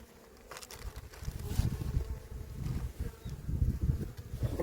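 Honeybees buzzing thickly at a crowded spring beehive during queen-rearing work, a dense, close, continuous drone that swells and fades with passing wingbeats, with no talk.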